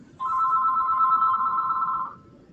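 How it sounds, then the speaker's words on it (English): A telephone rings with a single sustained electronic trill, loud and close, lasting about two seconds before cutting off over faint background noise. "I'm really sorry about the phone."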